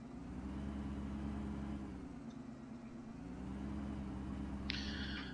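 A truck engine in the Farming Simulator 15 video game drones steadily at low pitch throughout, a continuous rumbling idle-like hum with a faint higher clank near the end.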